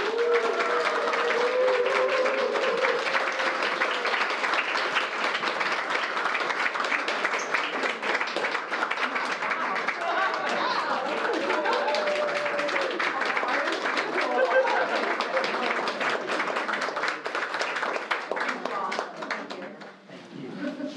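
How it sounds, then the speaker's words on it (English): An art-center audience gives the artists a long, steady round of applause that fills the room, with voices mixed into the clapping and a brief dip just before it ends. "Just want to close with one more final applause for Eric, Bonnie, and Meyo."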